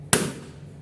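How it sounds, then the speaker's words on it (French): A balloon bursts once, sharply and close, after a laser melts its membrane during a science demonstration at a space museum, leaving a short fading room echo. "la chaleur a fait fondre la membrane du ballon, ce qui a fait qu'il a explosé."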